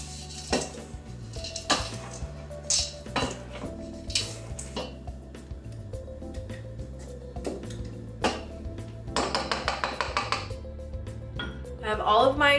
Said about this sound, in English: I'm just gonna take the paddle and just stir it around.